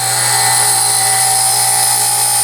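A bench grinding wheel grinds heavily on a sheet metal drill bit held nearly tangent to the wheel face, giving a steady, loud, high-pitched whine with a low hum and no pauses.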